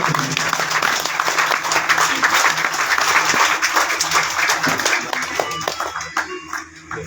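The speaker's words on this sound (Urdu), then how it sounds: "ماشاءاللہ تالیاں ہو جائیں" Sustained applause from an audience at a school's annual result ceremony, dense steady clapping throughout that thins slightly toward the end, with no talk over it.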